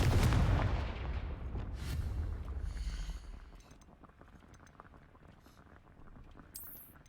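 A fiery Confringo spell explosion in the video game Hogwarts Legacy, a loud booming burst at the start that rumbles and fades over several seconds into quieter game ambience.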